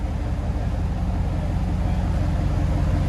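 A GMC Sierra's 5.3L V8 with straight pipes drones inside the cab, a loud, steady, deep rumble at idle that holds level and never revs up.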